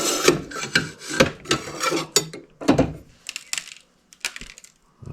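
Small crumbly bits of dried-up grease dropping out of a 1976 Ford Econoline 250 van steering column, a series of close, sharp clicks and rattles that thin out into scattered ticks with quiet gaps.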